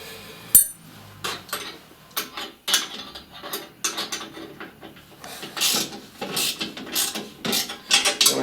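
A ratchet tightens a clamp on a vintage car exhaust pipe in a workshop, with repeated close clicking strokes in uneven bursts and occasional metallic clinks, no voices.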